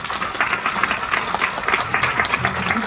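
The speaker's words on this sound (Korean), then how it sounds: "큰 박수 부탁드리겠습니다." Warm applause from the audience at a Suwon youth career forum as a research fellow is introduced, many hands clapping steadily and loudly throughout the short stretch, without speech.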